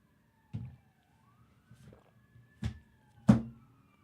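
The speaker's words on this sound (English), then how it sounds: "I hear the sirens now." A faint siren wails in the distance, its pitch slowly rising and falling, with several louder nearby thumps and knocks over it.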